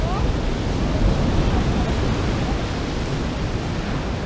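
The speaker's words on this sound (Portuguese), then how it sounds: "O mar hoje tá bravo, hein?" Rough sea surges against a rocky shore near Ubatuba, a loud, unbroken wash of crashing water and spray filling the whole stretch without pause.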